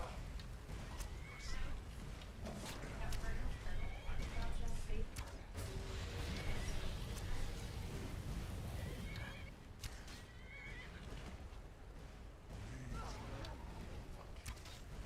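A horse whinnies repeatedly in a video game over a busy game soundscape with hoofbeats clip-clopping and voices talking throughout.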